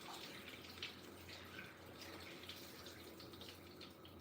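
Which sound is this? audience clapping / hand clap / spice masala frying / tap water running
tap water running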